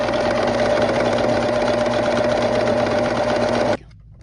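A Singer S0700 serger runs steadily at close range with a dense, even mechanical whir and a clear hum, then stops abruptly near the end, leaving near silence.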